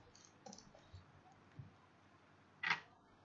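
A single crisp computer mouse click on OK in Smart PLS, close and distinct after a few faint taps on a quiet background.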